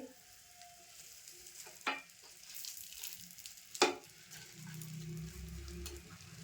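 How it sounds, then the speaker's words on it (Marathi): Vegetables being sautéed on top of a butter dosa on a hot pan, a faint, soft sizzle with two distinct scraping strokes of a spatula a couple of seconds apart. "आता भाजी घातली डोस्यावर, तर परतून घेते."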